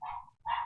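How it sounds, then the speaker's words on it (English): A dog barks twice in the background indoors, two short, fairly loud barks separated by a brief pause. "excuse the dog in the background"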